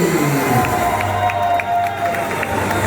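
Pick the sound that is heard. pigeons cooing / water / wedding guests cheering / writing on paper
wedding guests cheering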